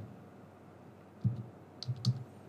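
A test message is tapped out on a computer keyboard, producing a few soft, quiet key clicks in a short uneven cluster over a faint room hush.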